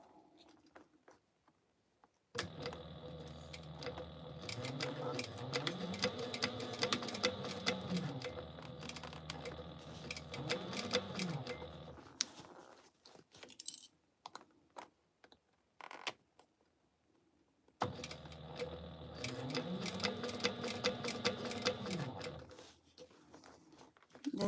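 A sewing machine stitches a cargo belt bag, running in two long stretches of rapid, even mechanical ticking and whirring with a quiet pause between them, close and fairly loud.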